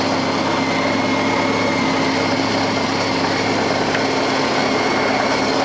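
A Seat Marbella pushrod engine runs steadily at idle, a loud, even mechanical drone with a constant ticking texture and no pauses.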